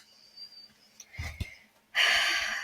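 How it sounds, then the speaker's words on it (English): A slow, deep breath drawn in near the microphone, then a loud, long rushing exhale, with no talking. "take a deep breath with me"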